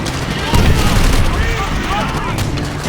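Rapid bursts of gunfire and blasts rumble continuously in Call of Duty: World at War, loud and dense, with a heavy explosion-like thump near the start.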